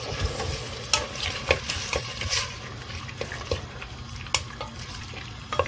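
Calamari with salt sizzles in hot oil in a pan, a steady close frying hiss broken by sharp clicks and scrapes from stirring, with no talk.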